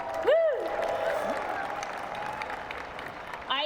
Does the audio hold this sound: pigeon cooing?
no